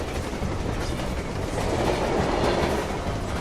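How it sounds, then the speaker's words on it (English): Train rolling along rails in the Sly Cooper: Thieves in Time video game, a steady, loud rumbling clatter of wheels that holds evenly throughout with no talk. "This train is insane."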